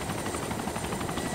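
A helicopter flies in the DayZ video game, its rotor making a steady, loud, rapid thudding chop that fills the short moment on its own.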